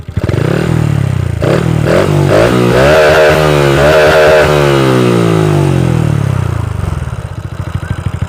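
A Honda Wave 125i motorcycle fitted with a PCX fuel injector and a modified 28 mm exhaust is revved up hard in several rising bursts, then held at a loud high whine before dropping back to a rough, close idle.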